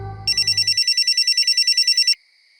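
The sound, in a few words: telephone ringing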